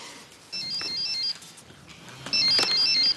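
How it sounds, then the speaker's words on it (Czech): A mobile phone ringtone plays in two bursts of a quick repeating electronic melody, moderately loud and close, with a short gap between them in a quiet room. "Komu tady zvoní mobil?"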